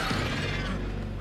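Glass shatters in the horror video game A Quiet Place, heard as a dense burst of crunching, clinking fragments that keeps a steady, fairly loud level without any voices.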